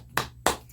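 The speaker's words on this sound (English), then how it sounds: "we'll clap for Thug, man" Two sharp hand claps, loud and close, spaced about a quarter second apart against a quiet background hum.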